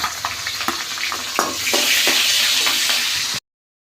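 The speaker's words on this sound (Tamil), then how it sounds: "கடுகு போட்டுக்கலாம். நல்லா பொரிஞ்சிச்சு. இப்போ நம்ம மிளகாய் போட்டுக்கலாம்." Mustard seeds and dried chillies frying in hot oil for a brinjal kuzhambu, giving a loud, steady sizzle with scattered crackles and pops that stops abruptly near the end.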